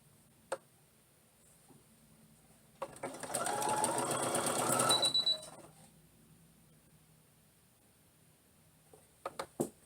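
A sewing machine stitching the shoulder seams of a tunic top runs in one close burst of rapid, even whirring for about three seconds, with quiet clicks and handling noises before and after.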